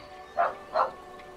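A dog gives two quick barks close by, evenly spaced, standing out clearly over a low, steady background.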